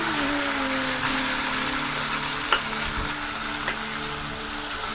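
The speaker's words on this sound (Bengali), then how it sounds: "কচু আর আলুগুলোকে ভেজে নেব" Taro and potato pieces fry in a pan for a festive thirteen-vegetable Bengali dish, a steady loud sizzle with a low hum running beneath, broken by a couple of brief clinks from stirring.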